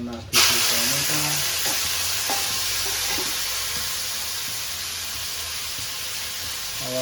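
Tomatoes dropped into a hot tempering of cumin, mustard seeds, asafoetida and garlic, giving a steady close sizzle and frying hiss that continues loud throughout after a sharp onset, with a few faint clinks.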